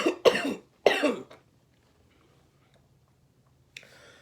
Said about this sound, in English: I have this cough this morning.